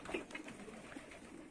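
Pigeons released from a cage, a few brief soft coos and light rustling close by, faint and over quickly.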